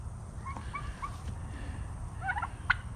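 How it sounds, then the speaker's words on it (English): Farm turkeys gobble in short warbling bursts, several calls over a low background rumble, with a louder close gobble near the end. "now let's check on these turkeys here"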